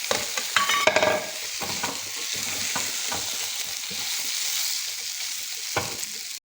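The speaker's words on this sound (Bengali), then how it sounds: "মশলাটাকে ব্রাউন কালার করে ভেজে নিয়েছি। এবার পটলগুলো দিয়ে দিচ্ছি।" Pointed gourd frying in a browned ground-spice paste, a steady close sizzle broken by scraping stirs and a few sharp clinks of the spoon against the pan.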